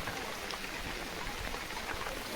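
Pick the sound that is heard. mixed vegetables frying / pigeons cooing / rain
rain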